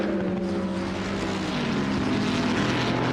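GT3 race cars in Assetto Corsa Competizione at Oulton Park, including a front-engine Mercedes and a mid-engine Ferrari, give a loud, steady engine drone with layered tonal harmonics that barely dip for the whole stretch.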